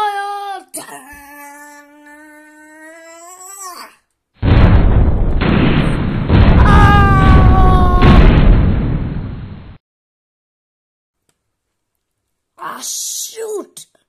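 A cartoon cannon fires with a long, roaring explosive blast that lasts several seconds, preceded and followed by animated voices talking.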